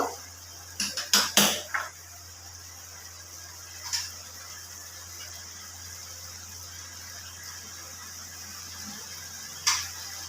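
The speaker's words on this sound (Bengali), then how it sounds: "এবার ভালো করে নাড়াচাড়া করে নেব" A spoon clatters against a pot while Kashmiri chicken is stirred: a quick cluster of sharp metallic knocks early on, then single isolated clinks several seconds apart over a quiet low hum, close by, no voices.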